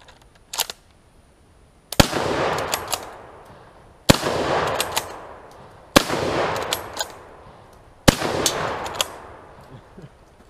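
Turk Mauser rifle fired at 15 yards outdoors: four loud, sharp gunshots spaced about two seconds apart, each with a rolling echo that decays before the next, preceded by a fainter click and knock.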